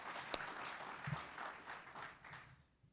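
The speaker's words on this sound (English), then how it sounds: "let's give Sonny another round of applause as well" A crowd applauds for Sonny Lubick at a stadium field in Colorado, a faint, distant patter of clapping that thins out toward the end.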